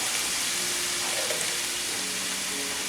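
Shrimp sautéing in a hot pan with fish sauce for a Thai shrimp and basil dish, giving a steady, even sizzle close by with no talking.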